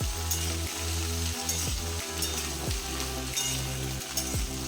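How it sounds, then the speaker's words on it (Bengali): Pointed gourd and Malabar spinach stems frying over a high flame, a steady loud sizzle with a regular stirring scrape or clink about every half second throughout. "এখন হাই ফ্লেমে সবজি ডাঁটা ভেজে নেব।"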